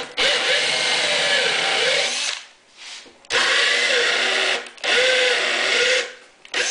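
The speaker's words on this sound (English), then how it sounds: "I ream them out with the next size drill bit up" A power drill reams out the pin holes in a wooden table leaf with the next size bit up. Three loud, close bursts of whirring and grinding are each separated by a brief pause.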